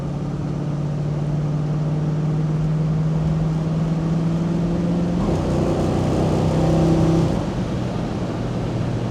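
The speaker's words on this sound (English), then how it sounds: "Transmission kicks down like it should." A 1967 Mustang Fastback 390 GT with a C6 automatic runs at a steady drone, then its engine rises in a louder rev as the transmission kicks down, easing back to a cruise.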